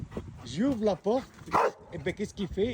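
A reactive rottweiler barks and yips repeatedly as a house door opens, loud and close, with someone talking in French over and between the barks.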